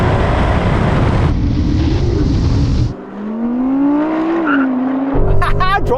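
A Porsche Cayenne Turbo GT and an Audi R8 launching in a drag race, loud engine roar and wind rush close by, then dropping to a rising engine tone from farther off before the noise surges back.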